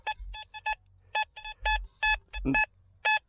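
XP Deus II v2.0 metal detector sounding its signal tone while hunting for antiques outdoors: short, clear electronic beeps in quick bursts of two or three, repeated several times over a low rumble.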